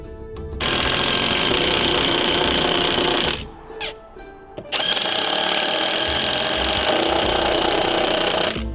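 Power tool driving screws into wooden frame boards while framing a two-story off-grid cabin, a loud continuous whirring burst that stops briefly with small clicks, then resumes steadily at close range, with no talking.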